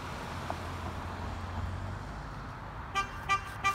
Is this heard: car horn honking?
yes